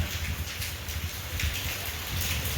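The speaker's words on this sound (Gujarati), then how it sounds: "વરસાદ શરૂ થઈ ગયો છે" A heavy downpour keeps up a soft, continuous wash of rain noise, fairly faint and even, with a low rumble underneath and no speech.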